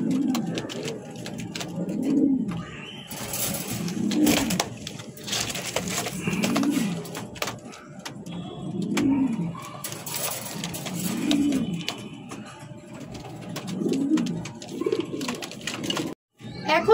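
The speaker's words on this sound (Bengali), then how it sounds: "এখন যে পেয়ারটি দেখাচ্ছি এটা হচ্ছে বোল্ডার শোকিং রানিং পেয়ার" A mated, breeding pair of pigeons coos close by, about eight rhythmic rising-and-falling calls spaced roughly every two seconds against a quiet loft background.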